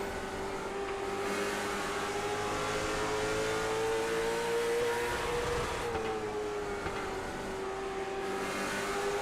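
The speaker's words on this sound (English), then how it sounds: "I love the sound of these race cars." Late model stock race cars roar around a short track at the SARA Impel National Tour Thanksgiving Classic, a steady loud engine drone with pitch rising and falling as cars accelerate and pass.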